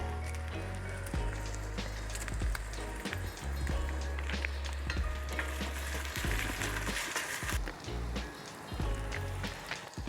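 Onion and curry leaves sizzling in hot oil for a Tamil tempering, a loud, dense, continuous frying hiss close up with a few stirring knocks and clatters.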